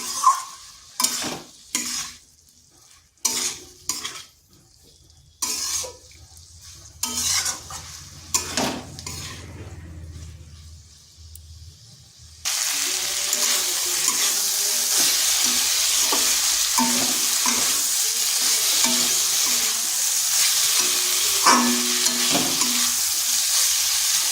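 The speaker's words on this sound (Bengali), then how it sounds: "এটাকে ওই মশলার সাথে বেশ কিছুক্ষণ কষিয়ে নিতে হবে" Kundru (ivy gourd) and soybean being sautéed with spices in a kadai: first sharp spatula clanks and scrapes against the pan in bursts, then a loud continuous oily sizzle with occasional stirring knocks, close up, no speech.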